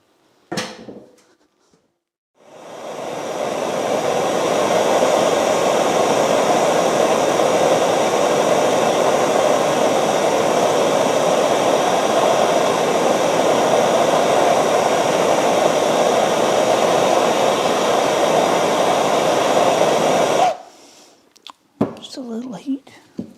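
A heat gun blows a strong, steady rush of hot air onto a stuck milling machine part for about eighteen seconds, loud and close, starting and stopping abruptly with faint handling noises around it.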